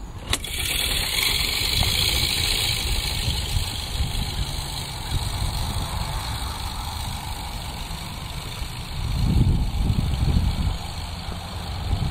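A motor runs steadily while a fertilizer spreader is driven wheel track to wheel track across a lawn, a continuous close drone that holds level throughout with a brief rise near the end.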